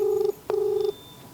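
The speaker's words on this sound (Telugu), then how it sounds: "రింగ్ అవుతుందా?" Outgoing phone call ringback tone: two clear steady electronic tone bursts with a short gap between them, fairly loud and alone with a faint background hum.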